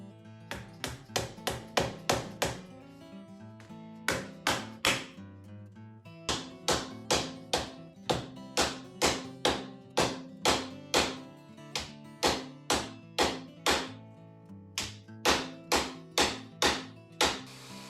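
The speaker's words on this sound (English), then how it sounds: "just go ahead and do one more round of hammering" Repeated hammer blows seat an AlloyGator rim protector onto a Tesla Model 3 wheel, a steady run of close, sharp taps in quick rhythmic bursts with brief pauses between rounds.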